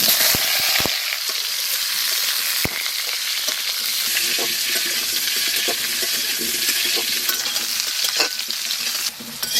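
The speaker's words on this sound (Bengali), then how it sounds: "আলু ভাজা হয়ে গেছে, নামিয়ে দেবো।" Potatoes fry in mustard oil in a wok, a loud, dense, continuous sizzle heard up close with occasional stirring clicks and scrapes, no voices.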